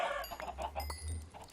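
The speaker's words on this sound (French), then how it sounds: "t'es en train de buter les poulets" Chickens clucking in the Minecraft video game, a few short close clucks in quick succession over a low steady hum, with no talk.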